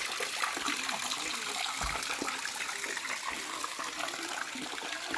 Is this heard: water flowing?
yes